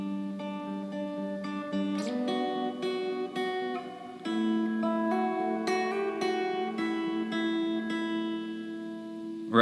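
Electric or acoustic guitar playing an intro with a varied ending, steady sustained chord tones and melodic notes ringing clearly for about ten seconds with no talking.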